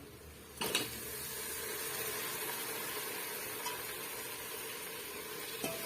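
Chopped tomatoes sauté and sizzle in a pan while vegetable rice is prepared, a steady close frying hiss with occasional stirring scrapes of a spoon against the pan.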